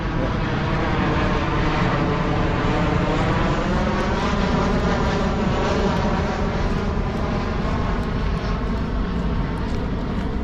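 A loud, steady aircraft engine drone fills the whole stretch without letup, like a plane passing low nearby, heard outdoors in Calgary.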